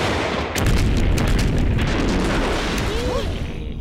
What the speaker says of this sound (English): My favorite CD! Military Explosions!